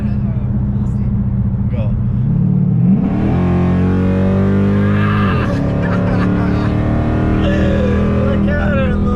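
A 500 hp Dodge SRT accelerates hard at full throttle, the engine roaring loudly upward in pitch as it pulls, after a brief spoken cue and with a voice heard near the start.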